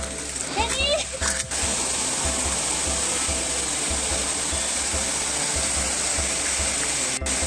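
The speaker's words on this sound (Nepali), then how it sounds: "यो तपाईँले देख्नुभएको चाहिँ झरना" A multi-tiered waterfall at Lalikhadka roars as a dense, steady broadband rush close by, with brief clicks and a faint voice near the start.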